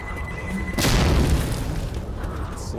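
A grenade in the Left 4 Dead 2 video game goes off with a sudden deep boom that rolls into a rumbling, crackling decay over about two seconds.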